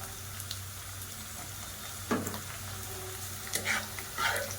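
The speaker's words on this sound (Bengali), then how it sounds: "দিয়ে আবারও আমি ভেজে নিচ্ছি।" Chopped tomatoes sizzle and fry steadily in a pan for veg fried rice, with a few louder spatters and stirring bursts over the constant hiss; no talking.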